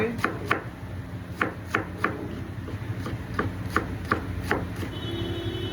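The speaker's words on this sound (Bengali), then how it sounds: "এবারে কাটবো বাঁধাকপিগুলো কেটে নেবো তাড়াতাড়ি করে" A knife chops through cabbage on a board, giving crisp, close strikes in quick bursts of two or three with short pauses between.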